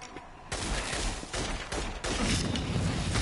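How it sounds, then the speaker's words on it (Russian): Gunfire in the video game Infamous Second Son: a rapid fusillade of loud, close shots arriving in several sharp bursts over a few seconds, with no talk. "я слышал выстрелы"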